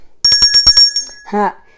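A small bell rings in quick bright strikes, about six close together, followed by a voice speaking briefly.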